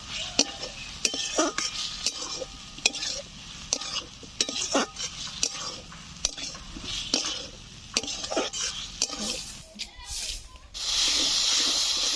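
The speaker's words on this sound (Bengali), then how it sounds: "এখন আমি ভেজে রাখা আলুগুলো দিয়ে দিচ্ছি।" Fried potatoes tossed into spice masala sizzling in oil, with a steady frying hiss, frequent sharp scrapes and clinks from stirring, and a brief low voice at times.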